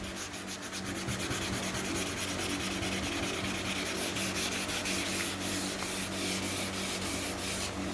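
Body filler being sanded smooth on a Fox Body Mustang during restoration: a steady, loud, continuous abrasive rubbing close to the microphone, unbroken and alone without voices.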